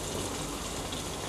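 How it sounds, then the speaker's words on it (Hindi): A jug of water poured into a pot of browned mutton and potato curry, a soft continuous gushing splash that stays steady and fairly quiet for a moment, with no voices. "1 जग पानी डाल देती हूँ।"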